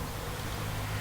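A honeybee swarm of several thousand bees being rehomed, giving off a steady, dense buzzing drone that stays even and close throughout without pauses.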